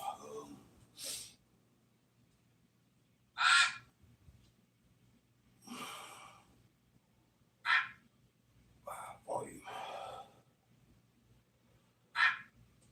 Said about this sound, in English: I'm tired of hearing this duck.